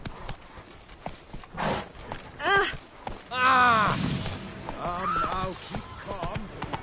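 Roach the horse in The Witcher 3 clip-clops along in hoofbeats mixed under a man's speech, with other voices and game sounds layered over the rhythmic steps.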